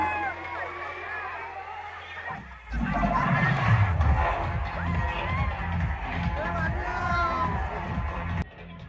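Large holiday crowd at the Wet N Joy water park, a dense continuous hubbub of many voices, shouts and splashing, loud and close throughout, with nearby talk mixed in.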